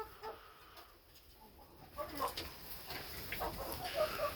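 Backyard chickens in a coop on a snowy day give soft, scattered clucks and short calls. They are faint and spread out, with quiet gaps between them, and a little low background noise.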